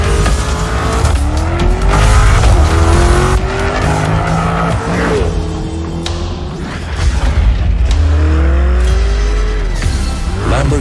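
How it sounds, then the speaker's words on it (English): A Lamborghini Urus super sport utility vehicle roars loudly through repeated engine revs and gear-shift sweeps, with tires squealing and skidding in dramatic bursts throughout. "Lamborghini introduces Urus. The super sport utility vehicle"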